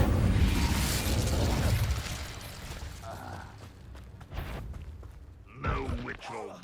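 The Incendio fire spell is cast in Hogwarts Legacy: a loud, roaring whoosh of flame with crackling bursts fades into rubble creaks and pops, with speech near the end.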